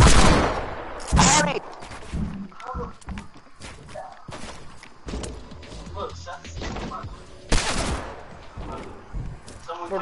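Loud gunshots and short automatic bursts in a shooter video game, with footsteps and clattering between shots as a player talks over the action.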